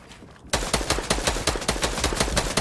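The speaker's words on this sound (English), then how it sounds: "These builds are getting shot." Rapid automatic gunfire in Fortnite strikes player-built structures, a sudden loud burst of evenly spaced shots that keeps going, close and sharp, after a quiet opening.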